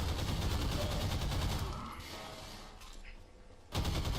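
Dense, continuous gunfire in the video game Half-Life 2, loud rapid bursts filling the first half and tapering off before a renewed loud burst near the end.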